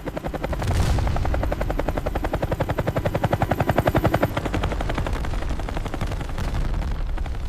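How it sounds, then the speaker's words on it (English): A military helicopter gunship falters over a 1968 battlefield: loud, close, rapid rotor thumping pulses steadily and swells midway, with a rough roaring wash throughout and no voices. "The helicopter rapidly lost control over the battlefield."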